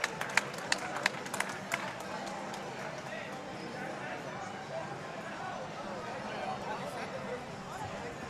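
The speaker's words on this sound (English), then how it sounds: "I wish you can hear this crowd behind me. I'm gonna pan over to the crowd right over here." Crowd at a StepManiaX tournament grand finals fills the space with a dense murmur of voices and clapping, with sharp claps and taps early on, heard from within the audience.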